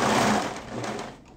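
A serger sewing machine stitching a neckband onto a crew-neck shirt, a close, loud mechanical whir that runs steadily and then eases off near the end, with no talking.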